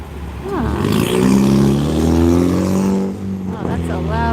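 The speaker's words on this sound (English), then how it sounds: "Oh, that's a loud car." A loud car roars past close by with a heavy, revving engine whose sound swells, dips briefly, then picks up again, while people talk faintly underneath.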